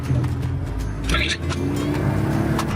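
Truck engine running steadily while driving, a continuous low rumble from inside the cab, with faint voices in the background.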